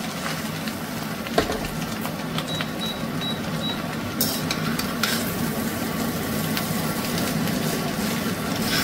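Chow mein being tossed and mixed into scrambled egg in a pan, giving a steady soft scraping and stirring with a light sizzle, one sharp clink near the start and brief brighter scrapes later, with no talking.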